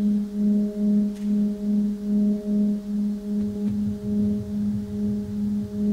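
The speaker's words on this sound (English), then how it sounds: "The sounds you're hearing are the sounds of stars," Processed space recordings said to come from stars and nebulas: a steady droning tone with a soft rhythmic pulsing throb repeating about twice per second, moderately loud and alone with no talking.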